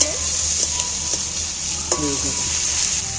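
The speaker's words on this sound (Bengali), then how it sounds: "রসুনটা নাড়াচাড়া করে ভাজা ভাজা সেন্ট উঠে গেলেই" Garlic frying in a pan with a steady bright sizzle, broken by scraping clicks of a utensil stirring it; no voices.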